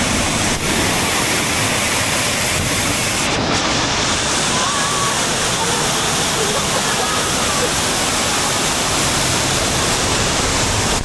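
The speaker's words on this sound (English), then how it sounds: "We are behind the waterfall." A waterfall roars with a dense, constant wash of falling water, heard up close from behind the curtain of water, loud and unbroken throughout.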